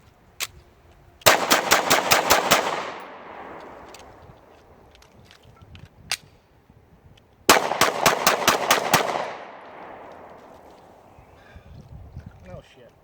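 A Taurus PT111 G2 pistol being torture-tested on a range fires two rapid strings of about eight loud shots each, with echoing tails, plus a few isolated single shots in the quieter gaps between.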